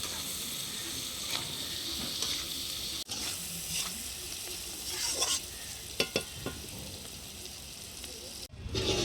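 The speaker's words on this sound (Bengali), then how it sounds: "দিয়ে একটু ভেজে নেব।" Fish frying in oil in a pan for a Bengali village-style tangra fish dish, a steady close sizzle with occasional scraping stirs and a few sharper clinks toward the end.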